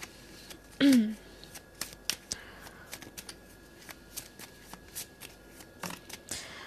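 Tarot cards are shuffled by hand during a reading, giving a run of quick, crisp riffling taps and flicks spread across the moment, close and light, with a brief voice near the start.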